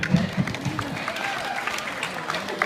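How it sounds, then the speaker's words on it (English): Wedding guests applaud at a reception during a best man's speech, a dense ripple of clapping with murmured voices and a few louder claps near the start. "So let's just round of applause for them today"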